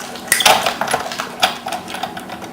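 Paper crunching as a metal die and plate are run through a die-cutting machine, a close series of dry crackles and clicks at moderate loudness with no talking.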